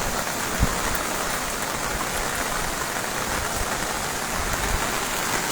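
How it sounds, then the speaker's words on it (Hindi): Heavy rain pours down near the Salal Dam on the Chenab River in a dense, constant hiss, steady and loud throughout with no voices. "तो बारिश का कहर लगातार जारी है"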